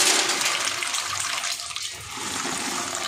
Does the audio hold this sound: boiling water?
yes